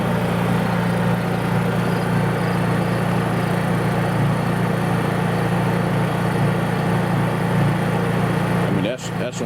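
A Honda EU3000is generator runs at full throttle with a steady, loud droning hum held close and constant throughout, and a voice speaks over the engine.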